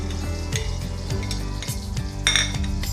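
Katla fish sizzles as it fries in hot oil, a steady crackle with a few brighter spatters and a faint scrape of a utensil against the pan, no voices.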